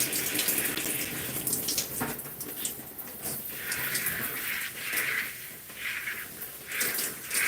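Tap water runs steadily while plastic hair clips are rinsed under it in a bathroom, a continuous close splashing hiss with small shifts in flow as the clips move through the stream.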